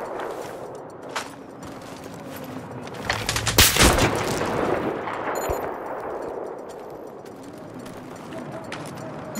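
Sustained suppressing gunfire in a Battlefield 3 firefight, with bursts of shots and a loud cluster of blasts near the middle, continuing as a dense rattle under faint battlefield noise.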